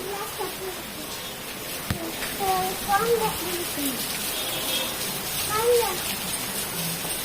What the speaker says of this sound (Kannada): ನೋಡ್ರಿ ಮಳಿ ಎಷ್ಟು ಜೋರ್ ಬರಾಕತ್ತದಂತ